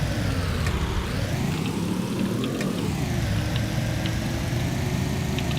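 In the video game A Dusty Trip, a big car's engine idles steadily, a low continuous hum with slight rises and dips in pitch, fairly quiet and with no talking.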